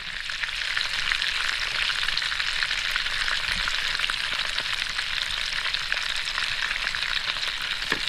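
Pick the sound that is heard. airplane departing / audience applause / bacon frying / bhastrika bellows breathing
bacon frying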